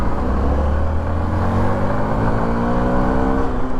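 A Hero Impulse motorcycle accelerating, its engine note climbing steadily in pitch with a loud, continuous rumble close to the microphone for nearly four seconds, no talking over it.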